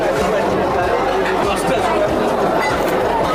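Dense crowd chatter at the Golden Temple in Punjab on a busy Sunday, a continuous babble of many overlapping voices close around, steady and loud with footsteps and movement mixed in.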